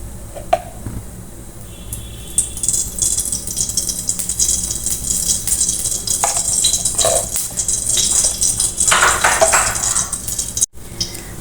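A tablespoon of ghee sizzles in a hot kadai while coconut barfi is being cooked. The hiss is steady and fairly close, with clinks and scrapes of utensils over it and no voices.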